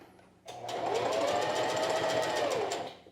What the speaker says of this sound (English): Take a couple of stitches forward, press the reverse button, a couple of stitches back, and then just sew this seam